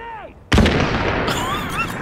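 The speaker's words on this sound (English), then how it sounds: "grenade!" A grenade exploding in The Division video game, one sudden loud blast followed by a long rumbling decay, with a voice shouting just before it.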